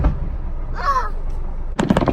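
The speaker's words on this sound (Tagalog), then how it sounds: "Wow! Fireworks, man!" Canada Day fireworks at The Forks in Winnipeg: a rising whistle is followed by a sharp, loud burst with crackling trailing off, against outdoor crowd noise.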